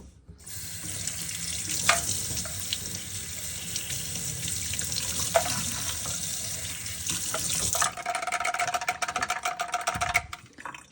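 Steady running water from a tap rinses the float assembly of a Bissell Little Green ProHeat spot cleaner, a continuous close hiss that shifts to a sputtering, splashier spray near the end.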